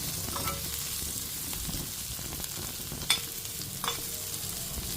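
Tempering sizzles and fries in a pan while being stirred, a continuous close hiss broken by a couple of sharp scraping clicks of the utensil, with no talking.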